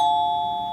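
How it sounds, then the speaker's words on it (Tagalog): A single sustained electronic doorbell chime rings clear and close at a home, a bright steady tone that slowly decays in under a second. "tumunog ang doorbell."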